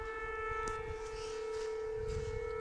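A civil defense siren wails steadily outdoors near the ruins of a Teutonic castle in Sobowidz, Pomerania, a continuous loud sustained tone droning throughout with low rumbling wind noise beneath.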